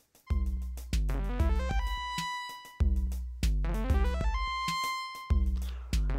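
The Aperio synthesizer, played from the Harmony Bloom MIDI app, sounds bright plucked tones in quick rising arpeggio runs that repeat in a looping pattern, each phrase starting with a firm attack and then decaying, with no voices.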